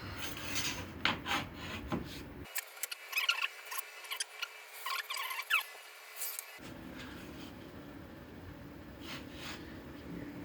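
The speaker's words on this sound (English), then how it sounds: "draw a line there, and then mark out the keel and chine" Pencil scratching and rubbing across plywood while marking a line for boat keel and chine moulds, a close, faint dry rasp in short strokes throughout, with a brief gap in low background noise midway.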